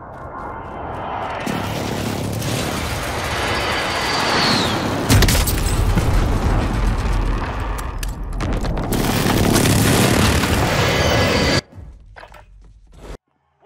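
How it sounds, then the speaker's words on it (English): Heavy, continuous blasts and rumbling booms from a precision airstrike in Call of Duty Warzone, loud and sustained for about eleven seconds before cutting to quieter low rumble. "Enemy precision airstrike."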